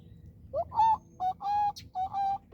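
Quail calls in the open, a series of clear, tonal whistled notes in quick succession, fairly close and prominent, each call a short rising-then-steady whistle repeated about four times with brief pauses between.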